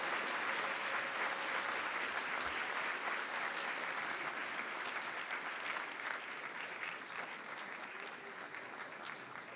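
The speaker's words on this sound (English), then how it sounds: "Let's give her a warm applause of congratulations." Applause from the audience at a university convocation honoring an award recipient, a steady wash of many hands that slowly fades toward the end, with no speech over it.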